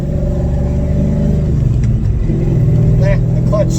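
A Coyote-swapped 1997 Mustang Cobra drones loudly from inside the cabin, its engine note dipping briefly during a gear change and then climbing again under acceleration. A voice speaks faintly near the end.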